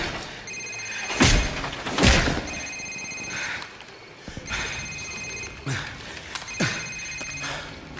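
A mobile phone rings in a tense room, its bright repeating electronic ringtone recurring in bursts over several seconds, mixed with heavy thuds and scuffling nearby.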